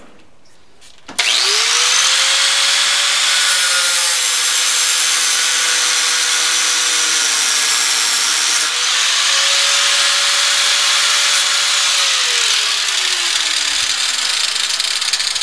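A lathe in a home garage cuts a weight lifting bar shaft, a loud close whirring cut whose pitch holds steady, dips, rises, then winds down over about fourteen seconds, with no talk.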